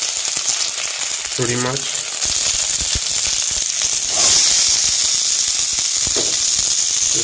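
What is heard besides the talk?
onions frying in a pan after chilies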